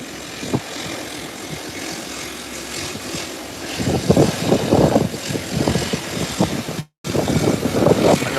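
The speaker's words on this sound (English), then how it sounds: "You can see another small craft heading down the runway for takeoff." A small propeller aircraft rolls down a runway for takeoff, its engine drone faint at first, then swelling louder and rougher as it gathers speed.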